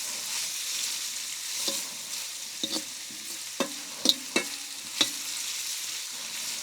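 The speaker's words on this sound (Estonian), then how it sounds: "Me paneme siia ära õli ja paneme juba siia porgandi ka peale ja porgandi praeme läbi" Carrots fry in oil in a pan for an Afghan dish, giving a steady close sizzle broken by scattered sharp clicks and scrapes of stirring, with no voices.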